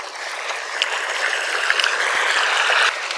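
Irrigation water runs into a potato field, a steady broadband rush and gurgle with faint ticking clicks, close and even throughout, with no talking.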